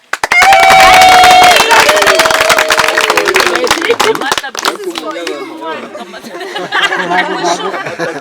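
A crowd claps and cheers loudly at close range while a sustained voice or instrument tone rings out, then the clapping thins and chatter rises.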